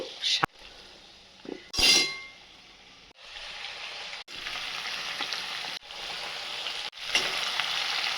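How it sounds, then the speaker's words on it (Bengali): Shrimp, greens and spices such as bay leaf, dried chilli and five-spice seeds frying in hot oil in a wok, with a loud sizzle that swells as food is added, a couple of clanks and stirring scrapes. "তেলের মধ্যে আমি কিন্তু চিংড়ি মাছও দিয়ে দিয়েছি এইবার আমি দিয়ে দেব"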